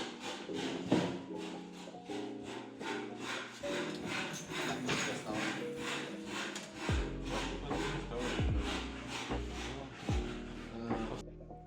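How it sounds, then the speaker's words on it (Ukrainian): Rough rhythmic rasping of a wood sanding machine against wood, repeated strokes in quick succession with occasional low thumps, close and fairly loud. "ми переходимо до шліфування. Це максимально гучний і напряжний момент."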